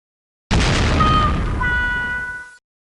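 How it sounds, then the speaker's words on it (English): A consumer firework goes off with a single loud burst and boom followed by about two seconds of crackling, whistling decay, close and alone before silence. "Consumer fireworks are very dangerous."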